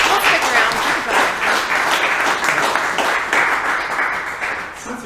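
Audience applause at a talk on starting an indie business, a dense, sustained wash of many hands clapping at steady loudness, tapering slightly toward the end.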